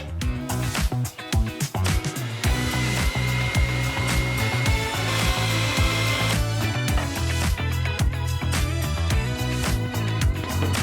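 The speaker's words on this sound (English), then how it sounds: "I'm gonna run them through the planer to flatten the other side" A thickness planer flattens glued-up wood strips for a cutting board with a loud, sustained mechanical roar and whine, its pitch dipping and recovering as each board feeds through.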